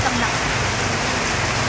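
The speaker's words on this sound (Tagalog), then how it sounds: "super lakas ng ulan" Heavy typhoon rain pours down in a dense, loud, continuous hiss and patter on surfaces, steady across the whole short stretch with no pauses.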